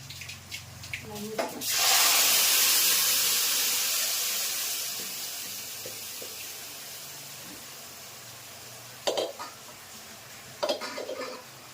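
Mustard seeds, cumin and fenugreek powder sizzling in hot oil for a fenugreek curry tempering, a sudden loud hiss that slowly fades over several seconds, with a few clinks and a voice nearby.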